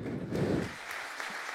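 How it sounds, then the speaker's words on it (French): Audience applause at a French tech conference talk, a dense wash of clapping swelling in the first half second, then settling into a steady, moderate patter that carries on without any voices. "applaudissez très très fort notre prochain speaker"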